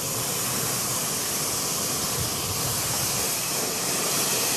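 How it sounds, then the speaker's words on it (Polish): Fish sauce and soy sauce sizzle hard in very hot oil in a wok-style pan for caramelized scallops, a loud, steady broadband hiss and crackle filling the whole stretch with no talk over it. "To się smaży prawie jak w woku."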